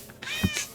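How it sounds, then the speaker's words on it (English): Single cat meow, clear and close, rising and falling in pitch over less than a second. "Oh, that was a cat."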